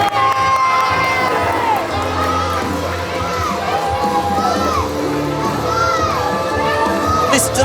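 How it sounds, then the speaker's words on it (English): Crowd cheering at a Mayhem Pro wrestling show, loud and close, with shrill whoops and shouted yells rising over a dense roar of voices, sustained across the whole stretch with a bright burst near the end. "Listen to the crowd"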